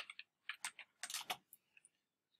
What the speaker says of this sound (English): And then I'm gonna type my password.